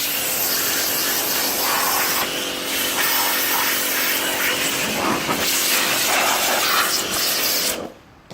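A 135-bar high-pressure washer running at 130 bar sprays in a loud, continuous broadband hiss for several seconds, then cuts off abruptly near the end.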